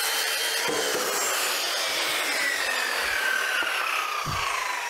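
A pipe being cut to length with a saw while building a deck, a steady, faint rasping grind running continuously, with a few dull knocks near the end.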